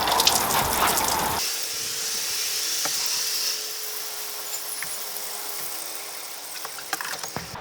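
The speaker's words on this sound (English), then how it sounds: "And watering again." Water pours over a bonsai planted from a cheap nursery plant, heard as a steady close hiss and patter that carries over a low mechanical hum; no one speaks.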